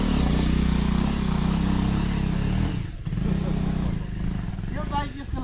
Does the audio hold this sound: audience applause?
no